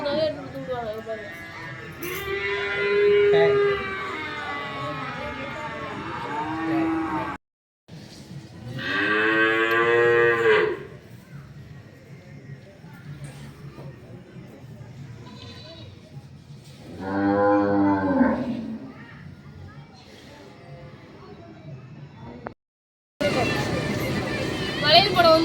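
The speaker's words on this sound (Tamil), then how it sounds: "காளை மாடு, ஆடு இருக்குது, கிடா ஆடு, ஆடு, காளை மாடு" Cattle at a temple farm moo in several long, loud calls spread across the stretch, with people talking in between and beneath the lowing.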